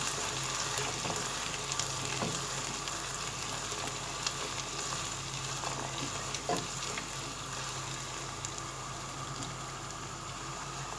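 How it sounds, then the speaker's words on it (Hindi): Cumin, garlic, whole red chillies, potatoes and tomato frying together in a pan for aloo methi, a constant close sizzling hiss with occasional soft stirring knocks and scrapes, no talk. "जीरा, लहसुन, लाल साबुत मिर्च और आलू इन तमाम इसको फ्राई कर रहे हैं।"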